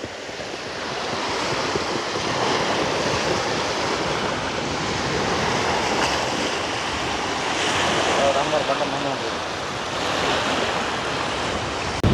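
Strong wind blows steadily across a village pond, a continuous roaring rush with gusty swells and buffeting on the microphone throughout, and no voices.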